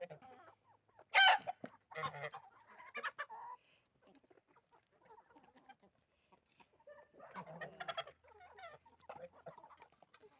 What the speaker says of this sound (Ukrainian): Петух і качур.